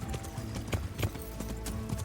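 Horse hooves clip-clop at a steady walking rhythm in the medieval video game Kingdom Come: Deliverance, close and fairly soft, with no talk over them.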